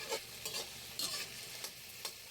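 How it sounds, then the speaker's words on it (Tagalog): A sardine and egg mixture stirred in a pan, with a steady quiet sizzle and about six brief scraping strokes spaced at an irregular rhythm, close by and with no voices. "Mix well."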